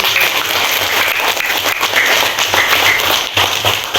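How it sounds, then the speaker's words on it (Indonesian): Elementary school students applauding in a classroom, a dense, loud burst of clapping that holds steady with no voices over it. "Luar biasa, tepuk tangan dulu"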